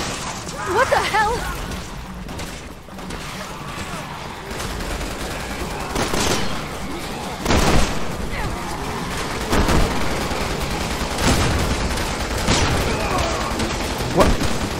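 Video game gunfire from Resident Evil 6, in a Leon campaign fight against zombies, with repeated sharp shots and bursts scattered through a busy battle mix of crashes and effects, while someone talks over it.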